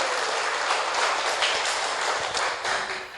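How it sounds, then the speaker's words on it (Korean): Audience at a live sales presentation applauds, a continuous dense wash of clapping at steady moderate loudness throughout. "드시는 분들만 자축의 박수 부탁드립니다."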